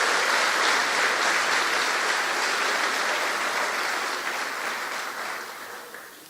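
A church congregation applauds in a sustained wash of clapping that stays loud and even, then gradually tapers off toward the end.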